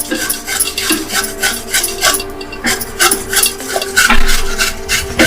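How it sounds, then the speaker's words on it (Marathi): A carrot is rubbed against a small kitchen grater to make fine shreds for dosa. The rasping strokes are close, loud and steady, repeating in a quick, even rhythm with no voice heard. "गाजर किसताना या प्रकारे छोट्या किसण्यावरती ठेवून ते मी किसून घेणार आहे"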